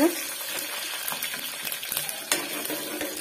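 Cumin seeds, a dried red chili, a green chili and curry leaves fry in a pan with a faint, steady sizzle, along with light scraping and clinking from a spoon being stirred.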